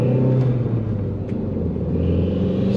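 A turbocharged car with a misfire accelerates in first gear, its engine giving a loud, steady low rumble and drone from up close, with no voices.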